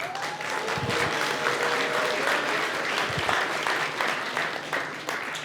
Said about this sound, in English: Everyone give a round of applause for Brenda.